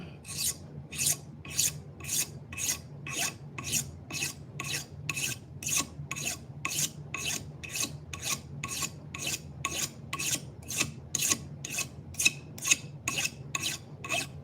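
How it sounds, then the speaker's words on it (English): A hand file rasps a burr off the edge of a knife blade in steady back-and-forth strokes, about two per second, close and crisp with no voices. "We could pull that burr off with the file though."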